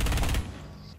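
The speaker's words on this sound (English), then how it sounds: "Oh, I'm being shot." Rapid automatic gunfire in Rainbow Six Siege, a dense burst of shots lasting under half a second before cutting off to a quieter rumbling tail.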